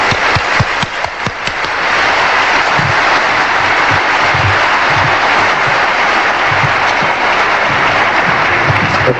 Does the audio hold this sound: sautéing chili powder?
no